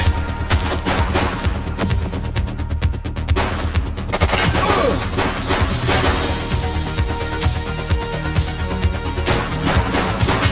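Heavy gunfire rattles through a police shootout in The Precinct video game, with loud, continuous rapid shots and crashing impacts layered over a busy, dense game soundscape, close and sustained with no let-up.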